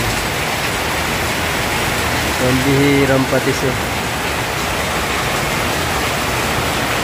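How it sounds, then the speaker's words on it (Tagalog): Heavy rain pours down in a steady, dense roar, with a brief burst of talk in Filipino partway through. "Grabe, ang lakas ng ulan."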